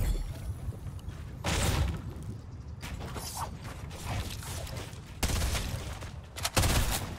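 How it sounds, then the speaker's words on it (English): Gunfire in a duos shooter video game: several bursts of rapid shots, each lasting about a second, with steadier mechanical clatter between them. "Oh, yo, he's shooting at me."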